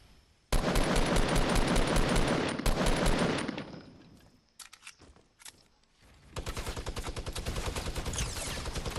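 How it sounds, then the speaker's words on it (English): A minigun fires in Fortnite, long sustained bursts of rapid-fire shots, loud and close, broken by a quiet gap with scattered single shots before another continuous burst. "Okay, a minigun."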